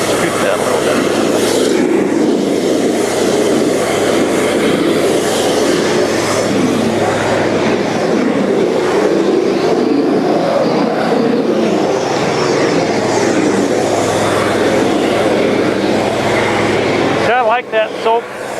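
A cold water jetter's engine runs at a steady, loud drone that stays constant and close, ending with a brief drop-off near the end.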